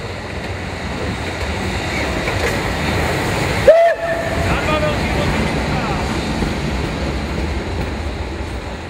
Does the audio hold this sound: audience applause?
no